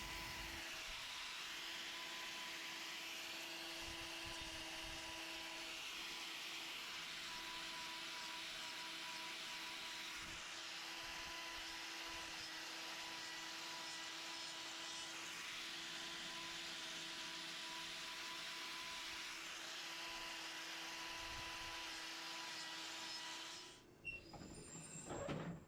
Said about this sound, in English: Notice how I'm being careful when I'm trimming this medial claw here to take away that outside wall.